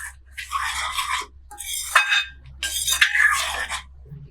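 A spoon scrapes and clinks around a pan of simmering mango raita cooked with coconut and jaggery, in a few bursts of stirring separated by short pauses, near and fairly loud.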